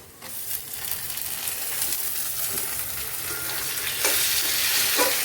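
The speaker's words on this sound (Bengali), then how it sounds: "এই টমেটোটা আমি কড়াইতে দিয়ে দেব।" Chopped tomato dropped into a hot wok of oil with meat, bursting into a loud, close sizzle that builds and crackles steadily, with a stirring clatter near the end.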